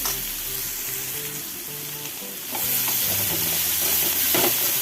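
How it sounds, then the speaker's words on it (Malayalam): Lentils fry in a pan after mustard seeds have popped, crackling and sizzling continuously while being stirred, growing a little louder halfway through. "കടുക് പൊട്ടിക്കഴിഞ്ഞ് നമുക്ക് നമ്മൾ പരിപ്പൊക്കെ ഇട്ട് കൊടുക്കുക അടുപ്പത്ത്"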